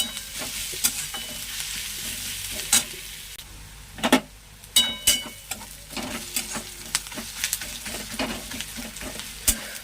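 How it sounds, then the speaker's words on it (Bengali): Garlic sizzles and fries in a pan on its own, with a steady crackle broken by repeated sharp scrapes and clinks of stirring; no one speaks. "রসুনের গন্ধটা বেশ সুন্দর উঠেছে এবং সুন্দর ভাজা ভাজা হয়ে গেছে"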